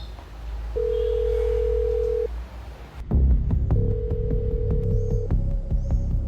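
A steady telephone dial tone sounds twice while a call is placed, each time a long unbroken hum. Between the two tones comes a short burst of handling or line noise.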